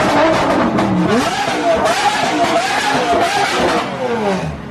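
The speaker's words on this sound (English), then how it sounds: "But there's so many cars out here." Loud cars race past and rev hard outdoors, engines rising and falling in pitch with continuous roaring, some tire noise, and a constant dense din close by that fills the whole stretch.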